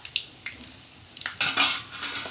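A metal ladle scrapes and clinks against a frying pan while urad dal vadas are flipped, a few sharp clicks followed by a louder scraping burst with a faint sizzle beneath, close and without speech.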